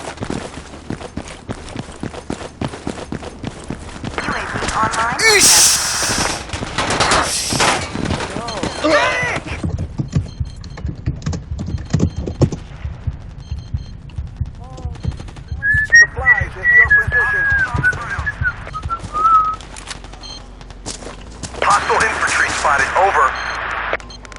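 Battlefield 2 gameplay with bursts of automatic gunfire and rapid shots, some close and loud, mixed with whistling and a voice talking over the action.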